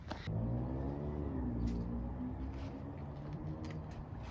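BMW engine fitted with an old intake, revving with a faint whine over a steady mid-level engine drone, heard from nearby.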